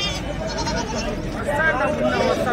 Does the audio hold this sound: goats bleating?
yes